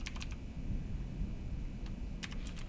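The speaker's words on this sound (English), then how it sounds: "you start typing things like, ooh, I want to find something about Thompson, for example." Quick bursts of typing on a computer keyboard, a few clustered key clicks at the start and a fresh flurry near the end, close and clear over a low, steady background hum.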